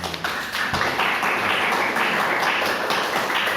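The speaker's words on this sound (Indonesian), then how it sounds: "tepuk tangan" Students in a university classroom clap for their class, a steady patter of many hands tapping close by, fairly loud and even throughout with no talk over it.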